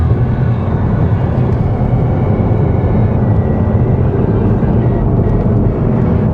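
Mazda 3 Turbo 2023 hatchback with all-wheel drive held in third gear through corners, giving a steady, loud, low engine and road drone with wind rush and no breaks.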